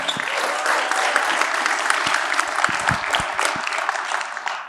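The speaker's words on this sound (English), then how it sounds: "You can clap now." An audience at a real estate summit breaks into applause, a full, steady round of clapping from a large room, with some individual claps standing out near the end.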